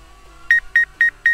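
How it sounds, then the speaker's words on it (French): Hubsan ACE PRO drone sounding its obstacle-avoidance warning: four short, evenly spaced electronic beeps, loud and close, with no talking. "On a entendu les bips"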